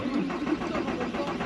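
A car's starter cranks a freshly repaired engine after a day's timing belt work, a steady mid-pitched churning drone that runs loud and close for the whole moment without catching.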